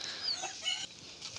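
Chickens cluck faintly at a home where pigeons and other animals are kept, a short burst of soft, high-pitched calls with no talking.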